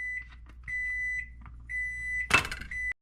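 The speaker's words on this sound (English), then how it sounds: "we are 7 seconds for the timer to go off" Kitchen timer beeping while a one-pan meal cooks on the stove, a series of sharp high electronic beeps in steady pulses, close and clear, ending with a brief clatter.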